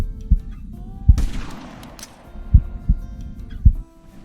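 Rifle shots crack in the hunting video game Hunting Simulator 2 as a hunter fires on an animal about 300 meters away, several sharp reports spaced irregularly over a low ambient rumble.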